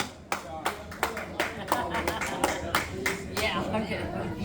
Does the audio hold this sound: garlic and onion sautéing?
no